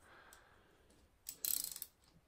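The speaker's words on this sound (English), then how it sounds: "Now I've swapped to a different socket set" Socket wrench ratcheting while loosening a car spark plug, a quick, close run of rapid clicks after a couple of faint knocks, quiet otherwise.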